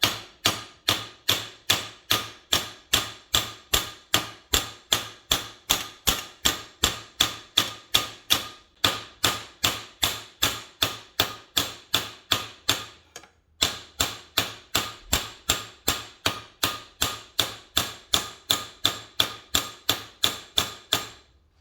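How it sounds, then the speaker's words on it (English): A chisel hammer strikes a steel patch panel held against a hardened steel surface, dishing the metal with a long, steady run of sharp, ringing blows at a brisk even rhythm, close and loud, with two brief pauses. "we're literally just going to take our chisel hammer like so"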